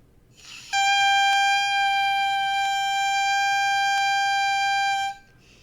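Bare oboe reed vibrating freely in the mouth without teeth clamping, a single steady buzzy tone held about four seconds, bright and reedy, close and alone with a brief start and clean stop.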